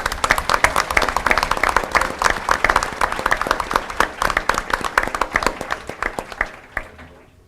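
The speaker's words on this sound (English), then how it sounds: "Let's give these ladies a round of applause, please." A school board meeting audience gives a round of applause for a group of female students, dense steady clapping from many hands that runs for several seconds before tapering into a few scattered claps.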